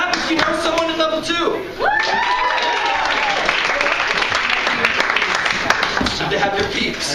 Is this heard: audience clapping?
yes